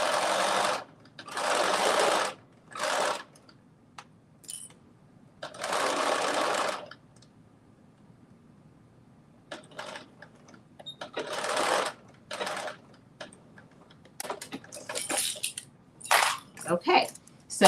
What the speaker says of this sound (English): so we've sewn the back together.